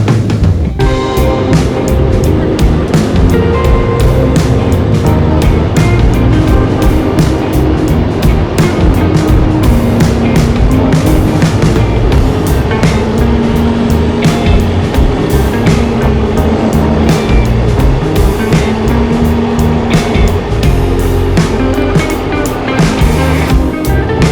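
A Honda Vario 125 scooter ridden at full throttle on a tree-lined road toward Kuala Kapuas gives a loud, steady engine drone mixed with wind roar that runs unbroken throughout, with no talking.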